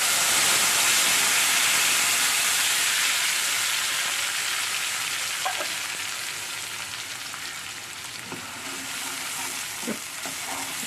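Spice paste sizzles loudly as it hits bhetki fish frying in a pan, a steady broad hiss throughout with a few faint spoon scrapes near the end and no talking.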